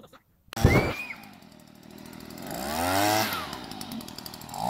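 A gas-powered air blower starts after a brief silence and runs loudly nearby, its engine rising and falling in pitch as it is revved, with a buzzing two-stroke whine throughout.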